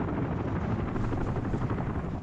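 A helicopter carrying workers in a city-building video game gives off a continuous low rotor thrum and engine drone, steady and fairly loud, with no talk over it.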